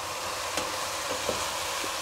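Chopped onion sweating in a soup pot for vegetable soup, giving a steady soft sizzle with a few faint stirring clicks, close and alone without voices.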